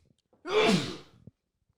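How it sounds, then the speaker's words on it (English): A single short human sneeze, sharp and close, with a quick intake before it and silence after. "I'm gonna sneeze again."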